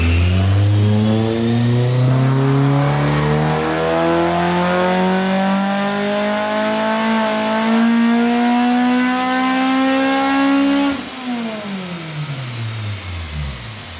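A tuned K20-swapped EG hatchback screams on a dyno, the engine note rising steadily through a long sustained pull before abruptly dropping off, loud and close with no talk.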